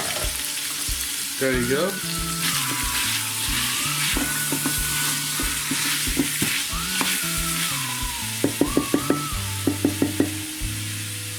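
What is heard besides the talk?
beef frying and sizzling in a pot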